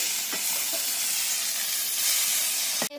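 Nimki pastries frying in hot oil, a loud continuous hiss and sizzle with a few soft clicks and stirs, ending abruptly.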